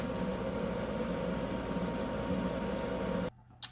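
Creamy mushroom soup simmers gently in a pot, a steady soft bubbling hiss that runs unbroken and then cuts off abruptly near the end, with no talk.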